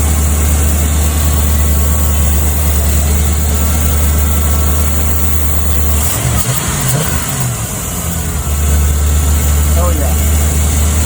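A 1992 Ford F-150 engine idles after its first start in years, a loud, steady, close rumble that dips briefly midway before settling back.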